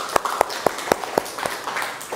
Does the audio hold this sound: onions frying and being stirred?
no